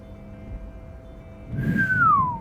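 A person whistles a single short gliding note that slides downward in pitch, heard faintly over a low hum and soft rumble.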